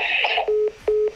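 A telephone number dialed on a keypad during a live prize draw for a Kawasaki Z1000 SX, first a muffled line tone, then two clear, evenly spaced keypad beeps, close and loud with no talking.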